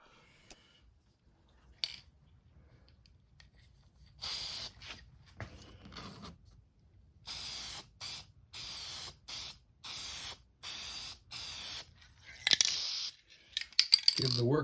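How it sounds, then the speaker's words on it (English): Aerosol can of clear coat sprayed over model airplane decals on a workbench, in a series of short hissing bursts, roughly six or seven, each a second or so long, with a few small clicks between. "I bought a spray can to try"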